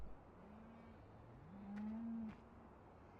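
Cows lowing in a farmyard in Farming Simulator 17, a faint drawn-out moo rising and holding over a low steady ambient hum, with a second fainter call.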